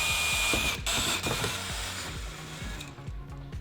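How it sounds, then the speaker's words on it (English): A power drill whirs in short, repeated bursts up close as it drills out rivets on a C8 Corvette, its motor revving and biting in a rapid, uneven rhythm. "we'll go ahead and drill out the rest of these"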